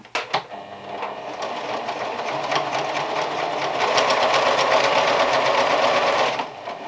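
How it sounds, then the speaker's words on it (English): A sewing machine stitches a dart in a 1901-style evening gown, running in one close, steady, continuous burst for about six seconds before stopping. "And then I sew the dart."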